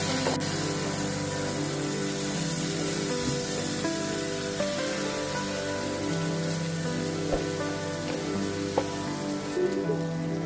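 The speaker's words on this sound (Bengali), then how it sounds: "দিয়ে 1 মিনিটের মতো ভেজে নিব, এতে আদা রসুনের কাঁচা গন্ধ থাকবে না।" Ginger-garlic paste frying in a pan for a curry of pabda fish with eggplant, giving a dense, even hiss of sizzling oil that holds steady throughout, close up with faint clicks and no voices.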